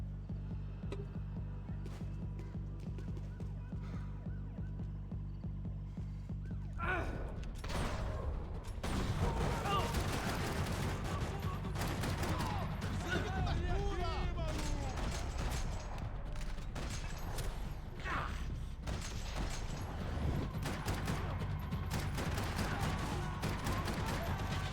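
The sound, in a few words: gunfire in Max Payne 3 video game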